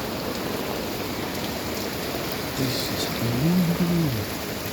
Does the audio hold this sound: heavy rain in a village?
yes